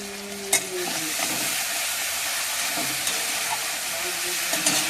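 A spice paste of chili and cumin sizzles and fries in a pan, a steady loud hiss broken by a few scraping stirs, with no talking.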